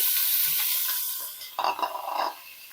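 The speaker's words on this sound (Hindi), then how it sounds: "अब ये मैं शामिल कर दूंगी गरम तेल में" Finely chopped medium onions tipped into hot cooking oil, a short burst of sizzling and stirring that swells near the end of the moment, close and moderately loud with no talk.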